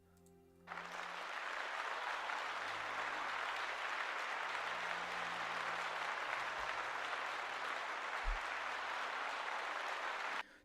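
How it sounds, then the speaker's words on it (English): Sustained applause from a crowd, starting abruptly and continuing loud and steady for about ten seconds before cutting off, with no speech over it. "Let's give them a round of applause."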